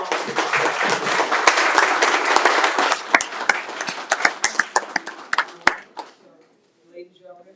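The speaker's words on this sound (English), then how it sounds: "if you all could give them a round of applause" Audience in city council chambers applauds, loud dense clapping that breaks into scattered individual claps and dies away, followed by brief faint voices.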